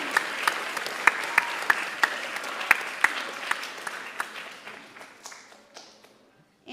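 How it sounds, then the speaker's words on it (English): Applause from a school assembly audience at Canterbury School of Florida: a sustained round of clapping with sharp individual claps standing out near the front, gradually thinning and fading to silence at the end. "let's give Mr. Hug a little round of applause"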